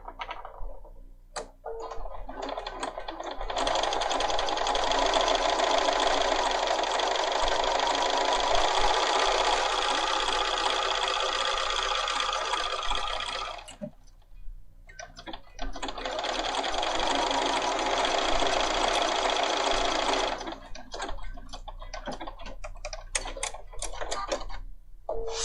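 A Bernina 500 series sewing machine runs a triple stitch in two long, steady bursts of rapid, even mechanical stitching, close up, with a short pause between them and light handling noises around.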